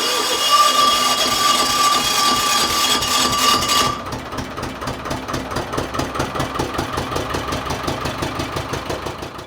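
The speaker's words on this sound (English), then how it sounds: "Then came the time to try and start the engine and listen carefully to the sound it made." An old engine at a farm in France cranks amid a steady hiss, then catches and runs roughly on one cylinder, giving a loud, uneven chugging pulse.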